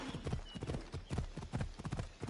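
Horse or unicorn hoofbeats in a video game, a steady rapid clip-clop of trotting hooves, close and even, running throughout.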